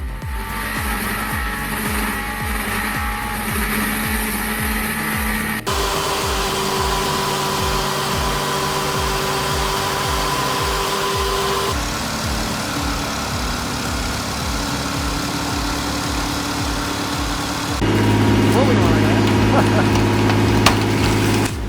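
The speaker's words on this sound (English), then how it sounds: "Side pipe barking, tires begging for mercy, the front wheel burnout is brutal." A Peugeot 306 does a front-wheel burnout on bricks, its side-pipe exhaust barking as the engine holds a loud, sustained high-rev drone that shifts pitch in steps, with continuous tire roar beneath.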